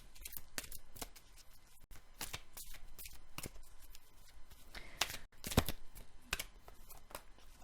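Angel cards shuffled by hand, a string of crisp riffling bursts and soft slaps at irregular intervals, close and fairly quiet, with no talking.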